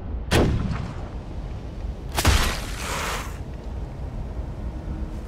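Two loud, booming gunshots a couple of seconds apart in Flintlock: The Siege of Dawn, each followed by a rumbling echo that fades into steady background noise, like heavy video game weapons.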